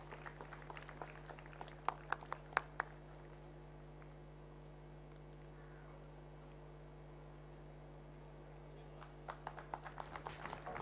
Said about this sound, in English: Can we have a huge round of applause for Amit sir?